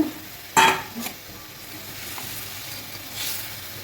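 Fish dropped into hot oil in a pan for a Bengali fish curry, a sharp sudden sizzle burst followed by a steady low crackling fry, close and without talk.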